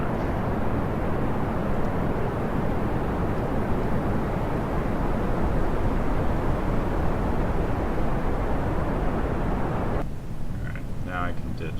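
A rocket engine running at full throttle in Kerbal Space Program: a steady, loud broadband roar that holds for about ten seconds, then drops away into quieter rumble near the end.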